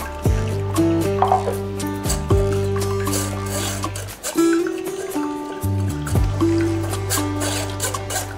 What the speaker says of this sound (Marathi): मिक्सरमध्ये फिरवून घेतलेला आता ज्यूस मी याच्यामध्ये टाकणार आहे.